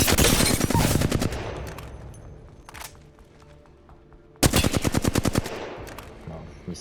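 Rapid automatic gunfire in the shooter game Apex Legends rattles out in two loud sustained bursts with a quieter lull between them and a short burst in the middle.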